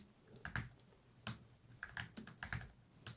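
Computer keyboard keys are tapped in short uneven clusters, a handful of quiet close clicks with pauses between, and no voice.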